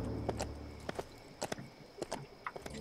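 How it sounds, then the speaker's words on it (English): Horse hooves clip-clop in the Lego Lord of the Rings video game, a quiet, uneven run of hoof thuds with sharp taps spaced through the stretch, faint and without talk. "It's Darth Vader on a horse!"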